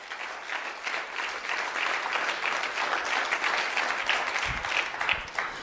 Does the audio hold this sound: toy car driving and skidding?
no